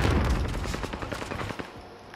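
Video game gunfire during a battle royale duos match, a dense burst of rapid overlapping shots that is loud at first, then thins out and fades toward the end.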